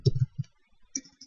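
A computer keyboard typing out a web address, a short burst of quick close clicks followed by a pause and a few more light taps.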